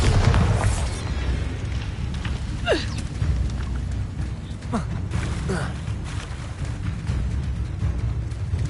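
A Bombarda spell going off in the video game Hogwarts Legacy brings deep booms and sharp bursts amid dense combat noise, with a few quick whooshing streaks.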